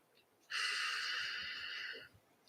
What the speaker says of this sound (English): So breathing in deeply